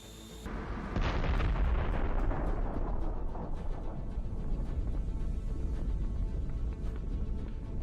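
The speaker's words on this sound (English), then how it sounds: "It's a precision strike, after which we see an incredible explosion." A huge explosion from a drone precision strike on a tank in the Kursk region: a loud, sustained blast rumble with debris crackle that starts abruptly and rolls on heavily for several seconds, with no voices.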